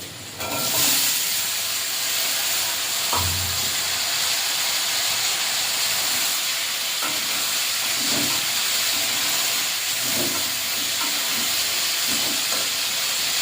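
Chopped ivy gourd and potato go into a pan of browned onion for a village-style curry, giving a steady, loud frying sizzle with a few faint utensil knocks throughout.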